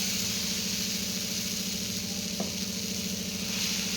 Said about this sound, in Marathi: एकीकडे तवा गरम करायला ठेवला होता त्यावरती आपण तेल स्प्रेड करून घेऊया आता याच्यामध्ये आपण एक पळी आपलं बॅटर सोडून घ्यायचंय